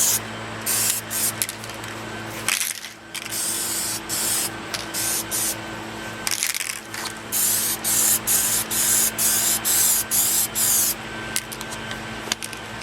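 Aerosol can of Minwax polyacrylic coating sprayed onto plywood, heard as a series of close, loud hissing bursts of varying length separated by short pauses, with a faint mechanical hum in the background.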